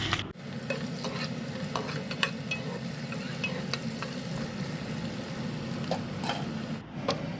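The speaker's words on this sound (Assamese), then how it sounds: "এতিয়া ইয়াত কাটি লোৱা পিঁয়াজখিনি দি অলপ সময় ভাজি থাকিম।" Chopped onions sizzle and fry in hot mustard oil with bay leaves, a steady close crackling hiss broken by the scrape and clatter of stirring, with no talk.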